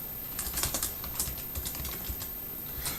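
Typing on a computer keyboard: irregular bursts of light key clicks, close and fairly quiet, over steady faint background noise, with no talking.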